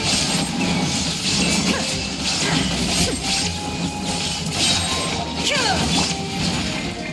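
A dense, bright crashing and shattering effect from Genshin Impact as an illusion shatters, sustained throughout, layered with mechanical clicks and whooshes, loud and continuous.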